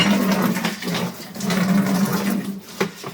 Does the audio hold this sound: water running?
yes